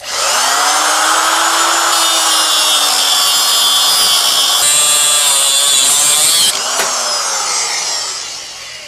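A power tool cuts off a small metal tab on a GY6 scooter's rear brake mount, a loud continuous grinding-saw whine with shifting pitch that runs for several seconds, then winds down and fades.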